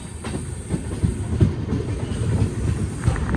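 A passenger train runs on tracks near Nagpur while curving into the city, heard from on board as a steady rumble with rhythmic clickety-clack of wheels over rail joints and a faint hiss.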